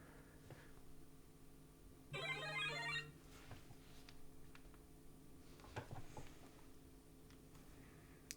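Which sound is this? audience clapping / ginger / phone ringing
phone ringing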